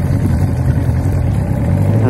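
An older boat engine idles offshore after being restarted following a stall, a loud, steady low rumble that holds even and continuous throughout.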